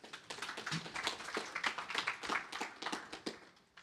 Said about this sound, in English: So once again, big round of applause for Uma.